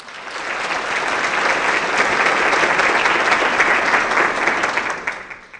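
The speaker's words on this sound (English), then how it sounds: "let's give her a round of applause" A school awards ceremony audience gives a steady, full round of applause that fills the hall, dense and even throughout before tapering off at the end.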